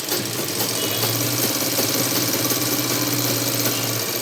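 A sewing machine runs steadily while stitching the edge of a blouse, a continuous fast mechanical whir and rattle, close and even throughout with no talking.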